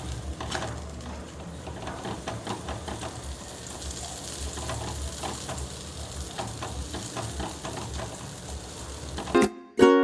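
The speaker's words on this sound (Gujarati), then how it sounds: "હવે 1 ચમચી આગળ અને 1 ચમચી પાછળ તેલ મૂકીને આ રીતે તળી લેવાની છે." Puran poli frying in oil on a pan, soft steady sizzling with scattered crackles, ending in a sudden louder clatter.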